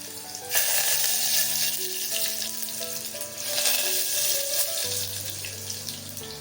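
Garlic and curry leaves sizzling in hot oil for a red cowpea curry, a loud continuous hiss that surges near the start and midway, with steady music playing underneath.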